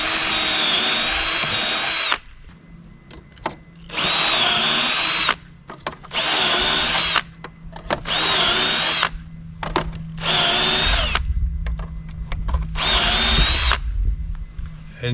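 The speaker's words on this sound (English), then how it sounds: "and just drill till it bottoms out." An electric drill bores into wood while building an upper cabinet for a boat, running in about seven loud bursts of high whine separated by short pauses.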